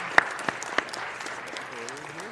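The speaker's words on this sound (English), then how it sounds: "Give her a round of applause." Applause at a city council meeting, a few sharp claps standing out at first and then settling into a steady, moderately loud patter of hands that continues through to the end.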